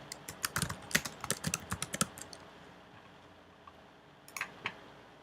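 Typing on a computer keyboard: a quick run of close, crisp key clicks, a pause, then a few more taps near the end, faint overall with no talk.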